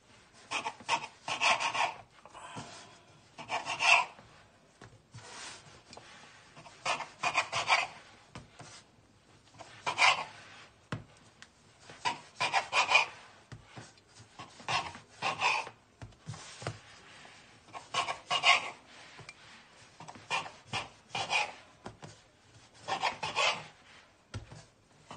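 Siopao dough being cut into portions on a board, a soft rasping scrape repeated in regular bursts about every three seconds, close and moderately quiet, with no talking.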